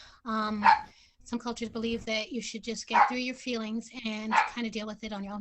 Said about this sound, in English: Sorry for my dog, who wants to join the conversation